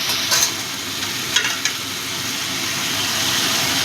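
Shrimp sizzle steadily in a pan with mixed vegetables for a Bengali prawn curry, with a few scraping stirs near the start and middle over the continuous frying hiss.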